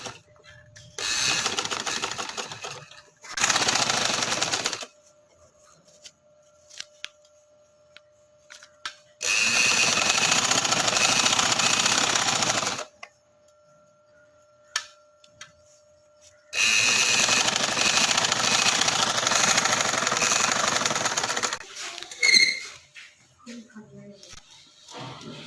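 A sewing machine stitches a red shalwar in bursts of steady mechanical whirring, three or four runs of several seconds each, separated by pauses, close and fairly loud.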